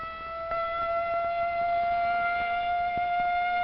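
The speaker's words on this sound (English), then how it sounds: "But tomorrow, this siren may mean the real thing." A civil defense siren sounds a steady, sustained wail at a fixed pitch. A few faint clicks come through underneath, and nothing else is heard.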